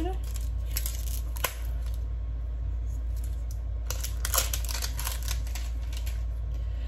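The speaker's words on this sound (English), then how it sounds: "I'm gonna go ahead and take the plastic off" Plastic wrapping is pulled off a sealed skincare product in short crinkling, tearing bursts against a steady background hum, close by and fairly soft.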